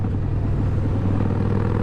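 A Harley-Davidson motorcycle engine rumbles steadily while riding, a close, continuous deep drone with no talk over it.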